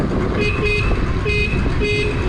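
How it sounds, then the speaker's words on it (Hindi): A thin, weak horn toots three times in a regular rhythm over a steady engine rumble, quiet and reedy rather than loud. "हॉर्न में कुछ प्रॉब्लम हुआ है, गिरने के बाद से आवाज़ कम हो गया है"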